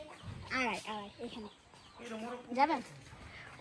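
Chickens cluck in short, repeated calls at a village chicken coop, fairly close, with a voice speaking at times in between.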